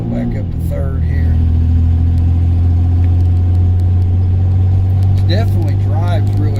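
A car fitted with a 4.3 automatic transmission, driven on the road, holds a steady loud engine drone and changes pitch as it shifts up into third gear, with someone talking over it.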